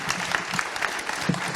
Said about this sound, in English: Ladies and gentlemen, please continue with the applause to thank our panelists and also our moderator